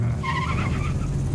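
A police car skids with screeching tires during a film escape chase, a loud squeal over a steady engine roar lasting the whole moment.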